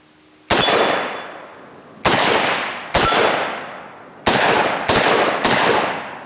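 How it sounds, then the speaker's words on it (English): Six loud, sharp gunshots from a short-barrelled AK pistol ring out one at a time at irregular intervals, each with a booming echo that decays before the next. "it does feel like almost like a different caliber when you're shooting this compared to a full-length AK"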